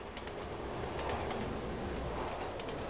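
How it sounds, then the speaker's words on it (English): A train rushes past in the Resident Evil 6 video game, a dense, continuous roar of rumble and rattling wheels with faint clacks, loud and steady throughout. "Oh shit, train!"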